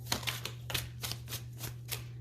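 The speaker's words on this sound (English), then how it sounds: "One last shuffle." Tarot cards are shuffled in a quick series of crisp, riffling bursts, close and fairly quiet, over a low steady hum.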